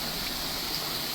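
A waterfall beside a steep mountain trail on Moosilauke, heard as a constant close rushing roar of falling water with no voices.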